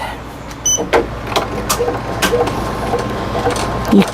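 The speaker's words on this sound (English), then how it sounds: "I'm going to put that back down, and I'm going to sew it." A sewing machine stitches a bag in short motor bursts with small mechanical clicks, close by over a constant background hum.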